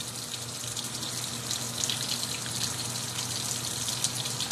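Steady stream of faucet water pouring to refill a container of laundry pod water, a constant nearby gushing hiss lasting several seconds without talk.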